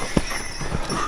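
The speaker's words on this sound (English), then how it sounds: "There are donkeys there" Donkeys walking on a rocky mountain trail give a couple of brief, sharp hoof clops on stone, set against steady outdoor background noise.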